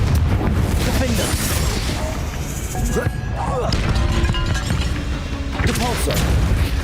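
Confringo explosion spell cast in the Hogwarts Legacy video game, a dense barrage of rumbling booms and crashing blasts running throughout, with voices talking over the din.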